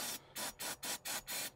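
Aerosol starting fluid sprays into the carburetor of an M715 in six short, sharp hissing bursts with brief gaps, close and fairly quiet.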